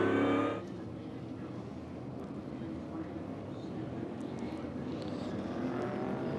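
NASCAR Cup Series race cars at North Wilkesboro, a distant, continuous engine drone of the pack circling the short track under crowd ambience, fairly faint after a brief louder burst at the start.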